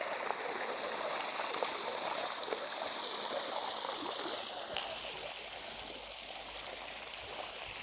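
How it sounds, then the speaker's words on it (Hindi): Water pumped from a motor pump pouring into a pit in a farm field, a steady hissing splash of flowing water, close and constant, with no one talking. "अब पानी चल रहा है खेत में"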